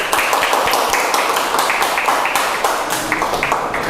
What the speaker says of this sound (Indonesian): tepuk tangan untuk kita semua yuk